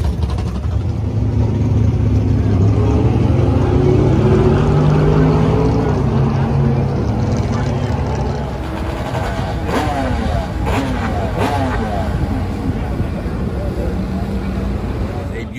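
A supercharged Corvette Z06 revving at a drag race, its loud engine note swelling and falling continuously throughout, with the pitch climbing in bursts.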